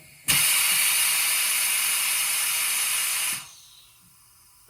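A pneumatic valve on a Coats 7065ex tire machine lets out a loud, steady blast of air hiss when the pedal is actuated, lasting about three seconds before cutting off abruptly.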